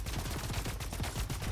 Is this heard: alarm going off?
no